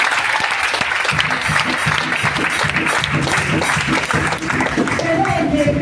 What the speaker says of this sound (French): Acclamons pour la gloire de Dieu.